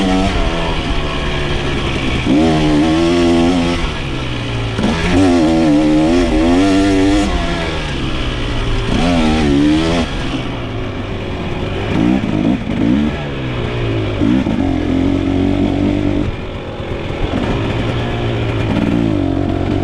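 2023 KTM TBI dirt bike ridden on a trail, its engine revving up and down in repeated loud bursts as the rider accelerates and backs off, heard alone without speech.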